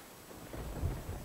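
Thunder from a lightning storm in the game Summer in Mara, a low, faint rumble that swells briefly under soft rain-like hiss, with no one talking.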